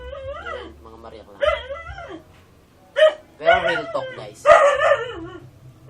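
At night a house dog barks and yelps at people outside in uneven, loud bursts. A person talks at the same time.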